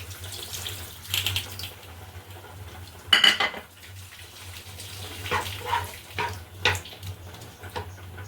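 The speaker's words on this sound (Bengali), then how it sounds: "এটা দিয়ে নাড়াচাড়া করে অল্প জল দিয়ে ঢাকা দিয়ে দেবো।" Fried squash and potatoes stirred in a metal pan, with irregular scrapes and clinks of a spoon against the pan and one sharper clatter partway through, close and without speech.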